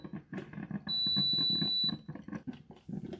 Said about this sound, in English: And there's the beeps to let you know that it's done.